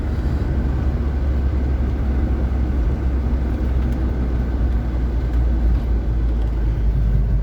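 A 2013 MINI John Cooper Works R55 with the N18 engine warming up, a steady low idle rumble with constant broadband noise throughout, no voices.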